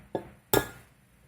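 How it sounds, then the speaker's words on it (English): An egg cracked open for English muffin dough: a soft tap on a hard edge, then a sharper crack of shell a moment later, close and isolated in a quiet kitchen. "So all you do is you crack your egg, open the shell"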